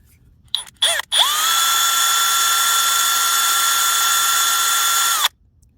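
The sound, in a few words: power drill drilling pilot hole in broken screw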